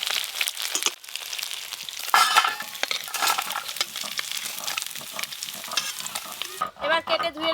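Cut eggplant pieces frying in hot oil in a Bengali home kitchen, with a loud, continuous sizzle and occasional stirring scrapes, close and without talking.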